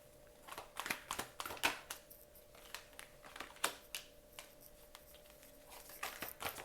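A quiet run of soft, papery tarot card riffles and taps as the deck is shuffled, irregular bursts close to the microphone, with no talking.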